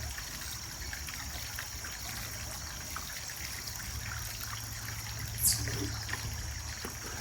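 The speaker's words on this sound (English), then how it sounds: "Then we're going to give them a good drink of water." A steady, soft trickle of water poured onto coleus cuttings, continuous and close, with a faint splash partway through and no voices.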